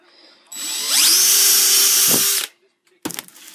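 A cordless drill whirs up to a high-pitched whine, bores a hole steadily for a couple of seconds, then stops, followed by a brief clatter.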